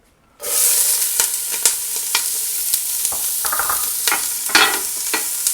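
Onions and garlic hit hot avocado oil in a pan with a sudden burst of sizzling, then keep up a loud, even crackle punctuated by light stirring clicks.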